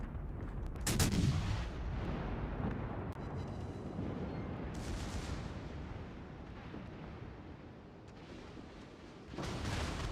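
Secondary battery guns on a Bismarck battleship in a naval warfare game fire in a dense, continuous barrage of booming reports, with louder bursts near the start and again at the end.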